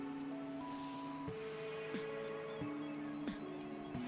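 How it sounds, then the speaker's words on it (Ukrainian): A Vifi LimassoXS A12 smart socket with a blown fuse switches its relay: about four crisp, quiet clicks land roughly two-thirds of a second apart over a faint electrical tone, with no voices. "Характерний звук реле."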